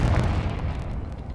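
A Confringo spell explosion in Hogwarts Legacy lands as a single deep, loud blast that rumbles and slowly fades.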